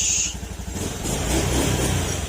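A Honda Beat FI scooter engine runs steadily at close range, a continuous low mechanical drone with a faint pulsing idle rhythm and no voices.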